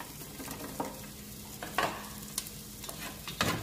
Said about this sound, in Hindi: 4 tablespoons of oil into a wok and fry the onions and spring onion greens,